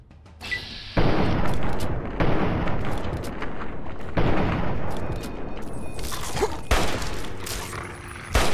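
Ol' Painless, a unique hunting rifle in Fallout 3, fires five loud, booming single shots at uneven intervals, each followed by a rumbling echo with clanking in between.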